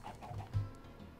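Minecraft chickens clucking softly with a few short, faint calls close by, no speech.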